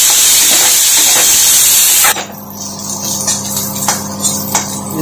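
Cauliflower florets with salt and turmeric frying in a pan for samosa filling: a loud, bright hiss and sizzle for two seconds, then a quieter simmer with faint clinks of stirring.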